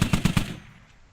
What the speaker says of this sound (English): you will generally get a Dishka machine gun for your